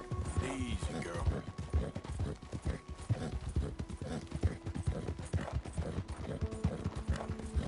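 A white Arabian horse's hooves clip-clop steadily and close in Red Dead Redemption 2, an even walking rhythm of sharp knocks over a low background hum, with a voice talking faintly over part of it.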